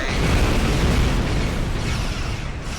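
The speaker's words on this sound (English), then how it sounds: "And fire at will. And torpedoes away." Torpedoes fired in the space game Star Trek Online explode in a loud, continuous rumbling roar that fills the whole stretch, booming low and broad without clear breaks.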